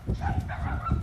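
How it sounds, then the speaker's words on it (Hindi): Dogs bark in a park in the evening, a quick cluster of low, muffled woofs in about a second. "यहाँ पे कुत्ते भौंक रहे हैं"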